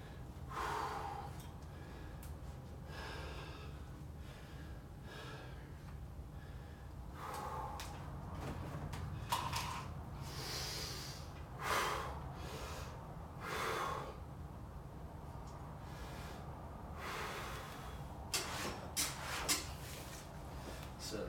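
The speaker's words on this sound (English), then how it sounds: "A little bit of a breathing exercise after I lower the weight." Close, deliberate breaths in a breathing exercise done after lowering a weight in a strength-training set, a series of audible inhales and exhales spaced irregularly over a quiet room.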